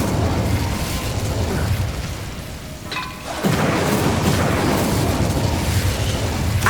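The Incendio fire spell in Hogwarts Legacy is cast amid loud game noise. A whooshing burst near the middle briefly dips and then swells into a roaring, rumbling fire blast that carries on steadily.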